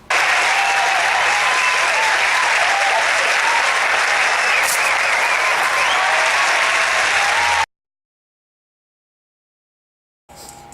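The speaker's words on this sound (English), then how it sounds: "You may now give a round of applause for the execution of Louis XVI." A crowd claps steadily and loudly for the mock execution of Louis XVI in a French Revolution reenactment, with a few raised voices mixed in, before cutting abruptly to silence and then a short burst of noise.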